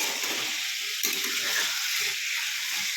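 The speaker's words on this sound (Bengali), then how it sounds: "আলুগুলো আমি তেলে দিয়ে দিয়েছি আর নুন হলুদ দিয়ে ভেজে নিচ্ছি ভালো করে লাল লাল করে আলুগুলোকে" Potatoes frying in oil with salt and turmeric, a continuous bright hiss and crackle of sizzling that stays steady and fairly close throughout, with a few soft clicks beneath it.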